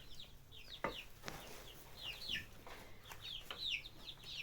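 Young Lohmann Brown hens about four months old, clucking and chirping close by in repeated short bursts over a quiet farmyard background, with a few sharp knocks.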